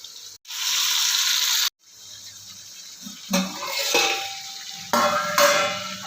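Chicken pieces deep-fry in oil over a slow flame, giving a hissing sizzle that starts and stops in bursts, with clatter from a stirring spoon in between.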